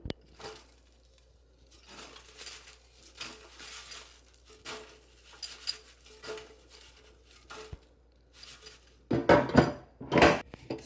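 Steak bites and yellow potatoes get turned over in a metal air fryer basket, with a run of scattered scraping and clattering taps that ends in two louder, close clanks, and no voices.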